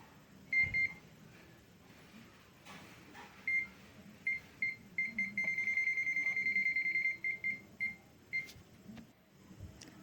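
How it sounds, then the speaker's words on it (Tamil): A Zoyi ZT102A digital multimeter beeping during a non-contact voltage test, a thin high-pitched tone pulsing in short bursts and then holding steady for a few seconds, close but fairly quiet over a faint room hiss. "பீப் சவுண்டு வருது பாருங்கள்."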